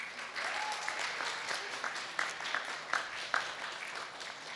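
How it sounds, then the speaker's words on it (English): Audience applause at a PreBit event in Tampere, a fairly quiet, even wash of clapping from a crowd with a few sharper individual claps standing out, lasting several seconds. "let's give a roaring applause to our PreBit organizer"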